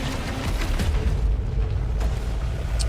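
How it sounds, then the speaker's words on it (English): Explosions boom in the game Saros, a continuous, dense low-frequency rumble of overlapping blasts with heavy bass and no pauses. "All right, the booms."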